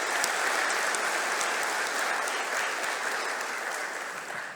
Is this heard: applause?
yes